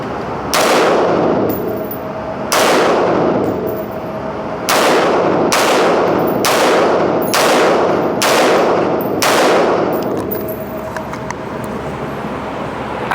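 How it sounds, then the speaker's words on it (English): An Alpha Retro APW15 rifle fires seven loud, sharp shots with ringing decay at irregular intervals outdoors, some close together, with no talking. "Actually shoots really nice,"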